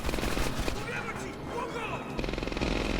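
Rapid, steady bursts of automatic fire from a German MP40 submachine gun in the World War II shooter Medal of Honor: Airborne, close and loud amid other gunfire and battle noise, with a voice briefly heard.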